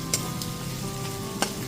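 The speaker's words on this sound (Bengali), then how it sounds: "লবণটা দিয়ে খুব ভালো মতো মিশিয়ে নিচ্ছি।" Salt being stirred into spice paste sizzling in oil for a fish curry, a steady close frying hiss with a couple of brief spoon scrapes and a faint tonal hum, no talking.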